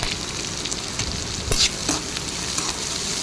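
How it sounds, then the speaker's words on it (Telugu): Mustard seeds, cumin, garlic, dried red chilies, curry leaves, cut onions and green chilies frying in hot oil for a Punarnava leaf curry, giving a steady close sizzle with a few scraping stirs, no voices. "కరివేపాకు, కట్ చేసి పెట్టుకున్న ఆనియన్స్, చిల్లీస్ ఇవన్నీ వేసేసుకొని ఫ్రై చేసేసుకోవాలి"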